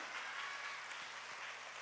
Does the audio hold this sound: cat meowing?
no